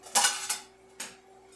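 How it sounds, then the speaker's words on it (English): A few sharp clanks of a ceramic plate set over a metal pot of cooking noodles, two close together then one more, with a faint hum beneath. "I'm going to cover that with a plate."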